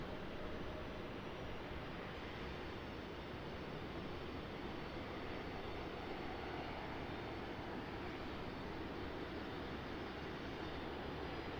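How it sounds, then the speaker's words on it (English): A JetBlue airliner departs Raleigh-Durham International Airport, its jet engines giving a steady, loud broadband roar that holds evenly throughout with no talk. "There we go, we got JetBlue headed out."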